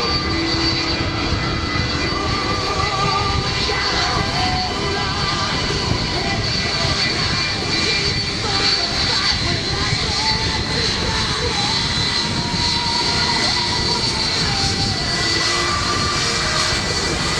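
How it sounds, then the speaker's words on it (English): A Sukhoi jet flying display at the Avalon 2009 airshow produces a continuous, loud, broadband engine roar that holds steady for the whole stretch without fading. "Nikolay Timofeyev is flying the beautiful Sukhoi"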